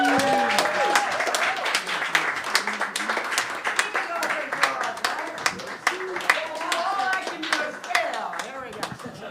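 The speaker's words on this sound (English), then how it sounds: "please help me welcome with a big round of applause, Miss Betsy Dees." An open mic comedy audience breaks into loud, sustained applause, many hands clapping densely together, with a few cheers and voices mixed in.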